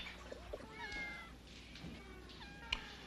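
A cat meows a few times, with short, faint, tonal cries over a soft background hiss.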